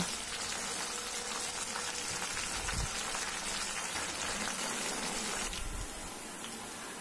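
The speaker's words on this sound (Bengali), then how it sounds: "পেঁয়াজটা এবার ভালো মতো তেলে ভেজে নিব" Sliced onions fry in hot oil for a cabbage and beef curry, giving a steady, loud, close sizzle with soft crackles and a brief stir or knock partway through.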